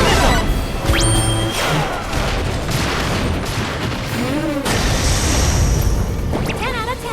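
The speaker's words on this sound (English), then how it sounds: "More missiles!" Missile explosions crash and boom in Final Fantasy 7 Rebirth, with repeated loud blasts amid a steady roar of battle and whooshing effects, while characters talk over the action.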